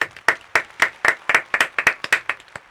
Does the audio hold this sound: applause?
yes